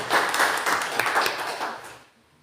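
A small group claps for a presenter during a classroom teaching session, a brief burst of rapid hand claps that cuts off abruptly into quiet near the end.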